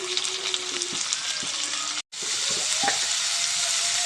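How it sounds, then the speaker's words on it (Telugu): Tomatoes tipped into onions already softened and frying in a pan for eggplant tamarind stew give a steady, close, loud sizzle that breaks off for a moment, then resumes just as strongly. "దాంట్లో టమాటాలు వేద్దాం."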